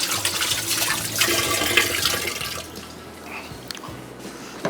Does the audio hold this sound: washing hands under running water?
yes